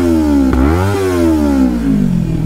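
Kawasaki Ninja 400 BS6 motorcycle engine revved hard by a blip of the throttle, pitch climbing sharply then easing down as it settles; loud, close and continuous with no talk.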